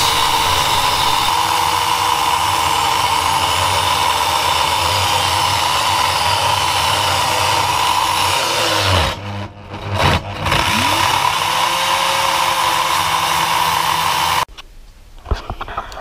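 A power tool cuts aluminium T-slot rail in a loud, steady, high-pitched whine, with two brief dips in pitch partway through, then the motor winds down and stops near the end.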